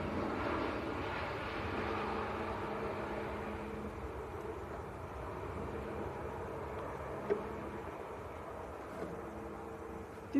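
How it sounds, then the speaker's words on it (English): A Ryanair Boeing 737-800 from Milan at Manchester Airport sends a faint, distant, steady jet rumble across the whole stretch, with no voices over it. "That is Ryanair from Milan"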